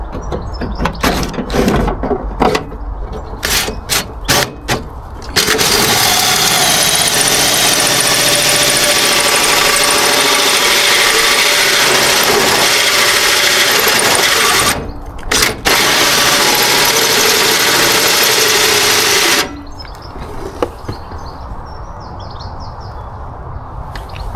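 A power tool cuts into the metal body of a 4x4 Sprinter van for a snorkel fitting: loud, harsh, sustained grinding in two long runs with a short break between, after several sharp bursts and clatter.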